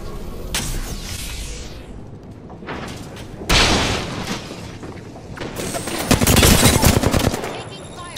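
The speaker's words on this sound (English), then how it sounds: "Fuck, he's shooting." Bursts of automatic gunfire in Apex Legends, loud and close, come in several clusters separated by short pauses, with heavy booming impacts mixed in.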